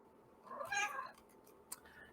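A cat gives a single short meow, quiet and slightly distant, with a faint click afterward.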